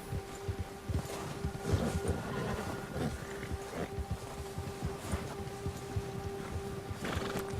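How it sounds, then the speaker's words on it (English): A nervous horse in Red Dead Redemption 2 snorts and whinnies in short bursts over a low ambient hum, with uneven shuffling and faint background game sounds. "Nervioso el caballo."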